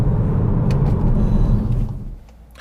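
A SEAT Ateca 2.0 TDI four-wheel-drive SUV in sport mode, heard from inside as a loud, steady diesel rumble that holds for about two seconds, then eases off and fades.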